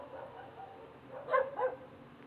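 A couple of dogs bark twice in quick succession, two short faint yaps over a low background hum, fairly distant.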